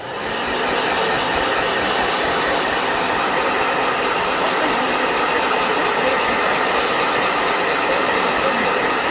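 A blow dryer runs steadily and loudly throughout, a constant broad whooshing roar with a brief click midway, no voices over it.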